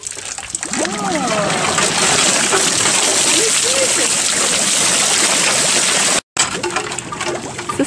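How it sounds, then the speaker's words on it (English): A water wheel turning and splashing in Vietnam, giving a steady, loud rush of churning and spilling water that runs the full length with a brief dropout near the end, while faint voices sound in the background. "It's the sound on the water wheel."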